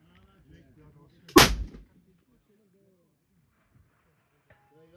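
A single loud rifle shot from a 6.5mm Creedmoor or .308 Winchester cracks at an outdoor steel-target shooting competition, a sharp burst with a brief ringing tail, while someone talks quietly before and after it.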